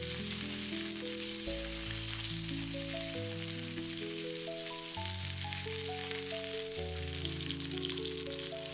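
Pork belly and spices stir-fry in a wok with a constant soft crackling sizzle, partly masked by steady background music.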